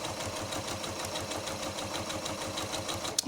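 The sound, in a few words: sewing machine chain stitching quilt squares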